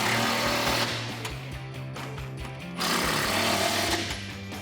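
An impact wrench or power ratchet with an 18mm deep socket tightens side step bracket bolts on a 2004-2008 Ford F150, a loud close rattling buzz that eases for a moment, then surges again.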